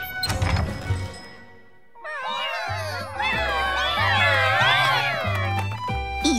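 Cats meow in an anime scene from the game Princess Connect! Re:Dive, a set in a cat-themed cafe: several overlapping, wavering meows rise together and hold steadily loud over background music after a brief quieter opening.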